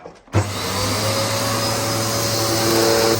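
A Hoover vacuum cleaner from the Dust Manager and Purepower range switches on with a thump and then runs as a loud, close, steady whine and roar while picking up gravel, with no talk over it.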